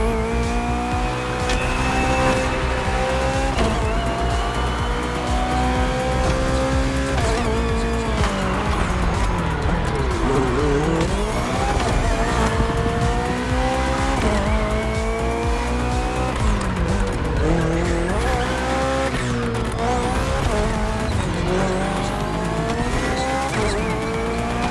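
A BMW hybrid V8 race car in The Crew Motorfest video game screams through a race, engine rising and falling through gear changes with repeated tire squeal and skidding, loud and continuous throughout.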